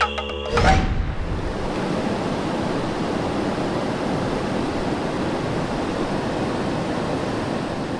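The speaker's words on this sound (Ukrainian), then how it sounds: "і річка шумить" A rushing Ganges river among mountains gives a steady, dense roar of flowing water that holds evenly throughout, with a brief sharper burst of noise right at the start.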